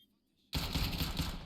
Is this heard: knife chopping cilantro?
no